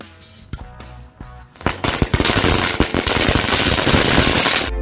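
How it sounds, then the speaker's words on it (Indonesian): Sharp pops and crackles from three packs of ninja ball smoke bombs lit at once start sparse, then build into a dense, loud barrage of rapid bursts and hissing, like many small firecrackers going off together. "ini dia mercon asap bola ninja terbanyak yang bakal kita nyalakan"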